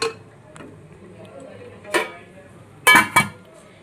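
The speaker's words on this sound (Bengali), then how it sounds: "ঢাকা দিয়ে দিলাম।" A metal lid is set onto a cooking pot of egg curry, producing a couple of close, sharp clinks after a few lighter taps in a quiet kitchen.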